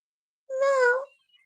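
A cat gives a single clear meow lasting about half a second, close and fairly quiet, followed by a faint trailing squeak in an otherwise silent room.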